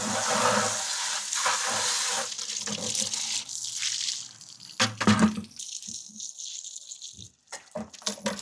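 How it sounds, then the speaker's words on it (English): Water from a spot-free rinse supply splashes and runs into a car-wash bucket as it is rinsed out, with a steady rush that breaks into intermittent sloshes and drips toward the end. "We're going to just rinse this bucket out quickly."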